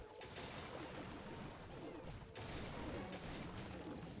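Ricochet Cannon firing in a Clash of Clans battle, rapid crackling volleys of game gunfire blended with busy battle effects and faint tones, steady and dense throughout.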